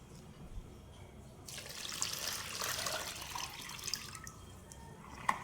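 Water pours in a steady splashing stream over salt for pickling olives, rising then tapering off for a few seconds, close by with no talking.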